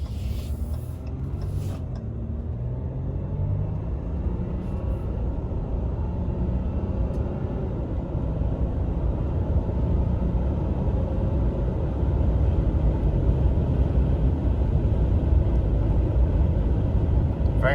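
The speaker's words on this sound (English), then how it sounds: "we got a 0 to 75. We're getting up on the highway" A 2020 Ram 1500 Limited EcoDiesel pickup accelerates onto a highway, a steady low diesel rumble and road noise building inside the cab.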